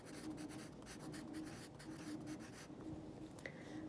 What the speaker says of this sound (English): So I'm going to write that after my semicolon.